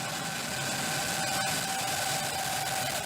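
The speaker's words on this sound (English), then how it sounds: "Ignition. Engines full power. And liftoff." Crew Dragon lifting off on a SpaceX rocket for the Crew 5 launch, engines at full power: a steady, dense broadband roar with a faint tonal hum, continuous and unbroken, heard at a distance.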